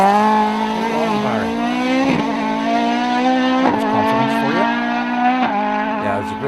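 A modified rally car at the Circuit of Ireland Rally blasts past at speed, its engine loud and sustained with repeated rising and falling revs as it shifts gears, close and dominating throughout.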